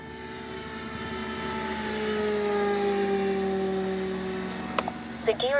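An FMS CJ-6 radio-controlled model airplane's engine drones at full throttle, a steady harmonic whine that swells and bends in pitch as the plane passes. A couple of brief sharp noises follow near the end.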